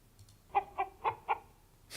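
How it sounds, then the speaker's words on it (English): Placeholder chicken clucking sound in an Unreal Engine game, four quick evenly spaced clucks, close and clear against near silence. "Because that's a chicken."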